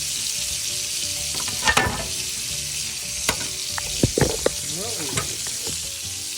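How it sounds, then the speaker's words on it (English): Meat searing in a hot pan, fat on the sides being rendered, with a steady broadband sizzle and a few sharp spatters and pops throughout; a single brief exclamation is heard. "Get that nice brown. Now I'm going to have to render the fat on the sides too."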